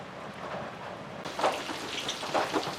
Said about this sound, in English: it's pouring rain all day